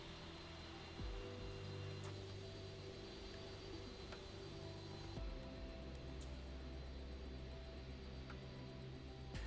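Qatar Airways Airbus A330 taxiing in Microsoft Flight Simulator 2024, a steady low jet-engine drone with a continuous broadband rumble, unbroken and even throughout with a slight shift in tone midway.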